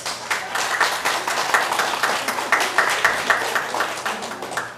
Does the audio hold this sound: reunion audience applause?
yes